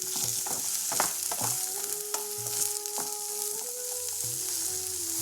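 Shrimp curry with vegetables is stirred in a sizzling pan, a spoon scraping and clacking against the pan in irregular strokes over a constant hiss of frying, close and alone without talk.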